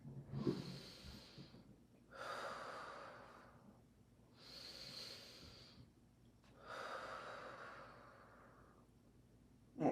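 Slow, deep breaths during a yoga flow, four long exhales in an even rhythm, close and quiet, with no talk.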